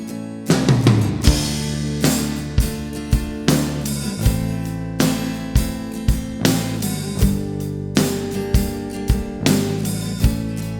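The same drum kit after mixing and processing, punchier kick and snare hits landing in a tight repeating groove with bright cymbals over a full band mix, steady and loud for about eleven seconds, no talking.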